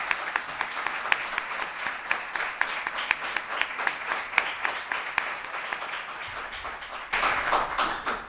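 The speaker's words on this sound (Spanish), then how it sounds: "Un aplauso para ella" Applause at an awards ceremony, steady clapping from a seated audience that carries through and swells louder near the end, with no talk over it.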